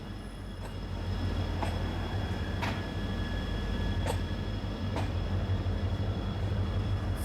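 A train rolls steadily between Mangaluru and Bengaluru, heard from inside a vista dome coach: a continuous low rumble of wheels on track with occasional sharp clicks and faint squeals, no voices.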